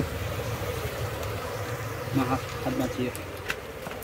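A steady, droning buzz of bees around a honeycomb being broken open fills the scene, with brief murmurs of voices partway through.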